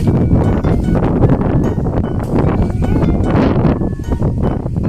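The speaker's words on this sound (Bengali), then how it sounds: "কি সুন্দর বাতাস" Wind blowing outdoors beside a field of leafy greens in a rural setting, a loud, steady buffeting rush across the microphone that lasts the whole stretch without pause.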